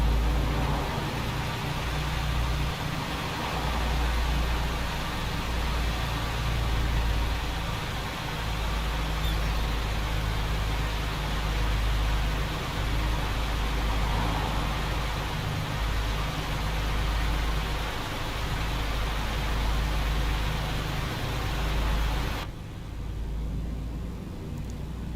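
A brand-new truck's engine runs steadily outside the cab, a constant low droning rumble, loud and unbroken for the whole stretch with no voices.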